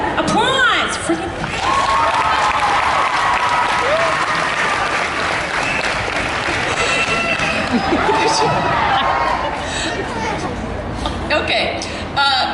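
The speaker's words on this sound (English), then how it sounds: "Applause!" A crowd at a live comedy Q&A show claps loudly and continuously with scattered cheers and chuckles, while a performer talks over the applause throughout.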